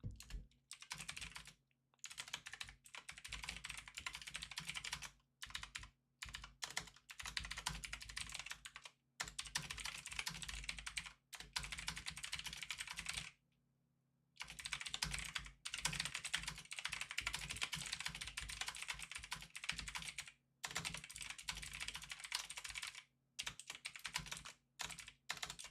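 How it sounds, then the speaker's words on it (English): Fast, steady typing on a computer keyboard at a day-trading desk during live NQ and ES futures trading, with dense clicking bursts broken by brief pauses and no talk. "I'm typing up another setup here."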